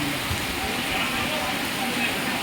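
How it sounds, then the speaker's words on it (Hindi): Heavy rain falls on the opening day of a Krishna Leela festival, making a steady, dense hiss that continues without pause. "काफ़ी बारिश हो रही है।"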